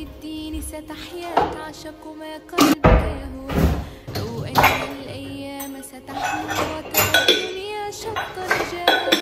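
Dishes, pots and cutlery clink and clatter in loud, irregular bursts while a messy home kitchen is tidied, with thumps like cupboard doors closing between them.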